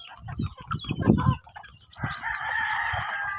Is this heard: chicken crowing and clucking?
yes